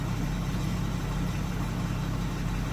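A 2015 Ford F350 with a 6.7L Powerstroke diesel idling with a rattle, steady low chugging drone close by, no talk.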